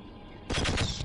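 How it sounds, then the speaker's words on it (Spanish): Submachine gun fire in the Half-Life video game: a sudden close, loud burst of rapid automatic shots starting midway after a quiet stretch of game ambience, with no talking. "Me dijeron que los disparos van recto, que va como un subfusil"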